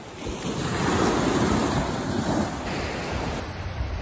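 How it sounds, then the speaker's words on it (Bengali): Choppy river waves wash and churn under an overcast, stormy sky. A steady roar of wind buffets the microphone and largely masks the water. "ঢেউ দেখছেন কিভাবে"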